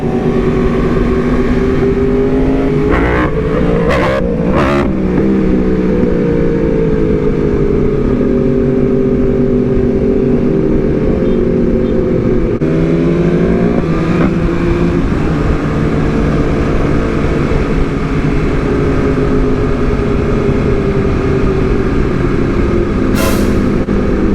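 At a large motorcycle meet in Atlanta, a motorcycle engine drones loud and close, its pitch rising and falling in sweeping revs over constant background engine roar.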